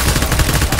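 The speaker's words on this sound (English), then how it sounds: "Stop shooting me." Rapid enemy gunfire in Death Stranding, a loud, dense, continuous rattle of automatic shots pressing close for under a second.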